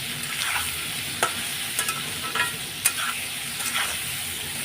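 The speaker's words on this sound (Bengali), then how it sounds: "এবার আমি একটু ভেজে নেব লাল লাল করে" Spices frying in a pan until reddish: a soft continuous sizzle with a few scattered spatula clicks and scrapes, close and quiet, no talking.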